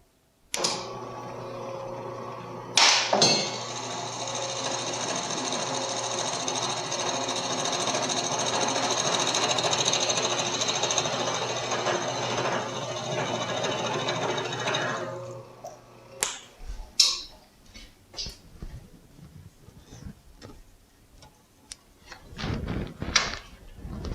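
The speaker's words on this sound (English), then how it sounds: "Let's cut a plug out of the same redwood that we used to construct it." A plug cutter bores a 3/8 inch plug out of redwood, giving a loud, steady machine whine that lasts about fifteen seconds. It stops abruptly and is followed by scattered knocks and handling sounds.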